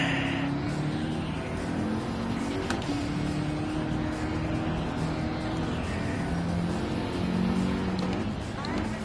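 Race car engine in Gran Turismo 7 revving and droning steadily throughout, with tone rising and falling through gear changes as the car slides through corners, loud and continuous with someone talking over it.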